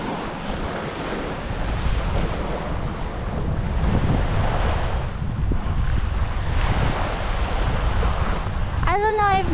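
Surf washing onto Sunrise Beach on Koh Lipe, a steady broadband wash of waves with heavy wind buffeting the microphone throughout, ending with a brief voice at the close.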